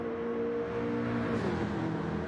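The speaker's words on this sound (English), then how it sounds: "GTRs do sound nice. There are a few nice cars in this game that sound nice." A Nissan GT-R race car engine in a racing video game on the Tokyo Expressway South course gives a steady, fairly quiet drone, holding an even pitch with a slight shift near the end.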